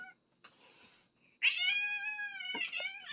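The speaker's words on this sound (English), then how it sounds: "my kitty Kaya is trying to help out here" A pet cat named Kaya meows up close, a short faint chirp followed by a long, loud, drawn-out meow and a brief final call.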